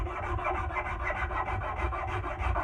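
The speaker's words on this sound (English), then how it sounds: "keep smoothing out these lines, smooth out the corners on the back." Hand-smoothing of a wooden tool handle along its lines and back corners, a steady close rasping rub that repeats in even strokes for a couple of seconds with no talk.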